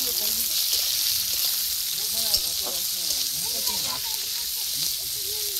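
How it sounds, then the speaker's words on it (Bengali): Chopped onions sizzling as they fry in hot oil in a pan, a steady bright hiss with crackles running throughout while a person talks quietly over it. "এবার পেঁয়াজটা দিয়ে দিলাম, পেঁয়াজটাকে সুন্দর করে ভেজে নেব।"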